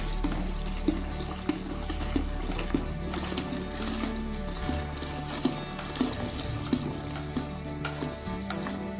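Homemade liquid laundry detergent solution poured into another mixture, a steady trickling and splashing of liquid with a few soft knocks, fairly faint.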